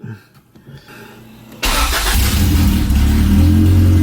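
A Honda B16B Type R engine swapped into an EG Civic cranks briefly with quiet clicks, then fires up loudly at about 1.6 seconds and settles into a strong, steady idle close by.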